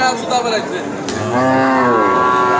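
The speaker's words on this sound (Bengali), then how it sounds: "গাভী গরু দেখতে পাচ্ছি" A cow with her calf at the Aricha cattle market lets out a loud, close, drawn-out moo that rises and then falls. Faint crowd noise sits in the background.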